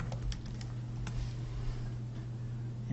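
An email address is typed on a computer keyboard in quick, uneven bursts of light clicking keystrokes against a quiet room hum, close and soft.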